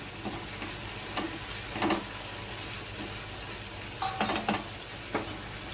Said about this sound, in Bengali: নারকেলটা দিয়ে আমি ভালোভাবে মিশিয়ে নিচ্ছি